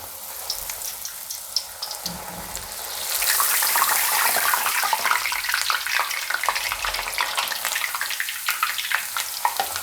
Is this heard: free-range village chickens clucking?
no